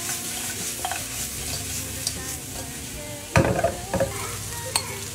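Chicken wings stir-fried in a wok with onion, red pepper, scallion and garlic give a steady close sizzle, broken by louder scraping stirs of a spatula toward the end.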